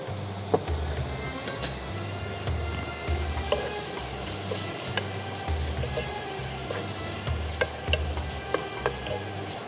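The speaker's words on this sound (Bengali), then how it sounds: "আপু কাইন্ডলি এটা একটু একটু নাড়া দিতে থাকেন" Chicken soup with vegetables being stirred in a pot on an induction cooker, a steady scraping swirl with light clinks and a low repeating hum underneath, close and continuous throughout.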